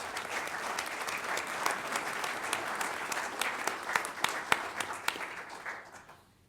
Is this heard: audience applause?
yes